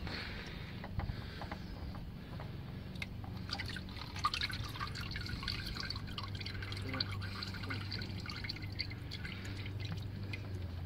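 Engine oil drains from the sump of a 2007 Mazda 6 2.0 petrol into a catch container, a faint continuous liquid trickle with scattered drips and small clinks, quiet and close.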